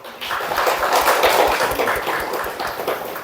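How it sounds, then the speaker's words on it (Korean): Church congregation applauding during a sermon, a loud, close burst of many hands clapping that swells and then tapers off over about three seconds. "우리 박수 한번 부탁드릴까요?"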